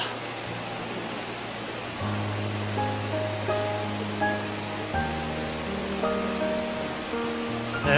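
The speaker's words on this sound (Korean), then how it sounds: "대한민국에서 제일 가는 폭포" A steady rushing roar of falling water from a waterfall in Geumsan, South Korea, fills the scene, constant and unbroken, with faint tonal sounds running beneath it.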